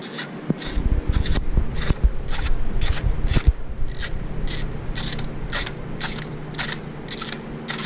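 A ratchet works loose an engine's spark plugs, giving a series of regular clicking bursts of pawl ratcheting, fairly close and crisp, with some clunks and rubbing early on.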